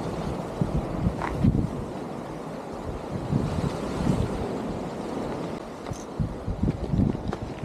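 Ocean waves crash and wash against rocky shore, a steady roaring surge with periodic louder breaks, mixed with gusty wind buffeting the microphone.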